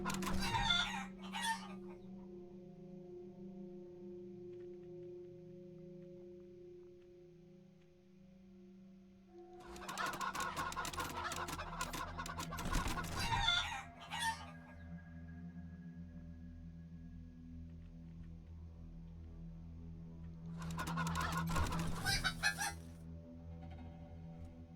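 Chickens in the Wasteland 3 video game cluck and crow in three separate outbursts spread over about twenty-five seconds, with a quiet ambient drone in between.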